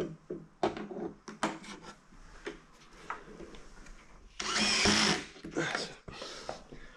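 Power drill with a low torque setting driving the last two screws through a metal bracket on an IKEA Malm chest of drawers, in short whirring bursts with a longer loud run near the end, while a person talks between them.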